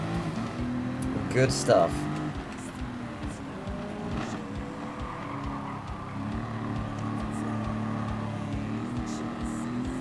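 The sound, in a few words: race car engines in the video game Gran Turismo 7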